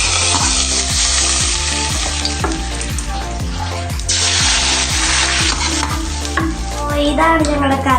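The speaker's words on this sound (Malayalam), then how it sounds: "വെളിച്ചെണ്ണയിലാണ് നമ്മൾ കടുക് വറുത്തിടാൻ പോകുന്നത്." Mustard seeds splutter and crackle loudly in hot coconut oil while tempering a Kerala-style drumstick leaves curry, a dense close popping sizzle running over steady rhythmic background music.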